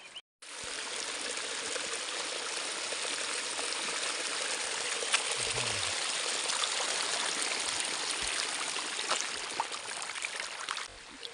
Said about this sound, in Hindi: तो मित्रों ये पानी इधर खेत में अपने आप आगे खिसकेगा